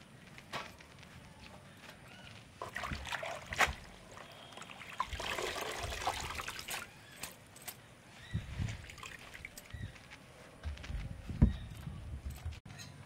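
Water squeezed by hand out of freshly washed amaranth (chaulai) leaves in a home kitchen, with intermittent trickles, drips and wet squelching handling noises at close range.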